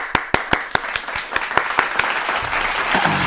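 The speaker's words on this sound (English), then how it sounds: "round of applause" Clapping during an online reaction stream: sharp, evenly spaced claps close to the microphone that quicken and blur into a denser patter over about three seconds.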